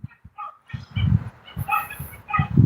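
Dogs in a dark forest on a trail bark and yip in short bursts, a few close, loud woofs spread irregularly across the moment.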